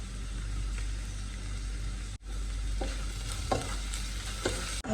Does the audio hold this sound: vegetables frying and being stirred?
yes